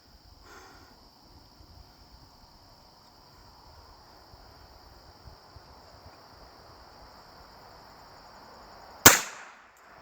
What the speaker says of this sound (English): So let's put a couple of rounds down range.